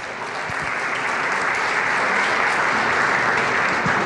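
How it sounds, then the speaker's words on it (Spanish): A conference audience applauds as the next speaker comes up, a steady wash of clapping that swells slightly and holds evenly for about four seconds. "Un aplauso, por favor."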